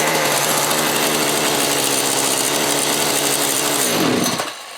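An old Echo chainsaw with an air leak runs loud and close at a steady, rough, buzzing pitch for about four seconds, then revs down and cuts off abruptly.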